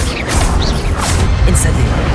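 Expelliarmus disarming spell cast in the Hogwarts Legacy video game: a loud, dense magical whoosh with a sharp impact, layered over continuous combat noise.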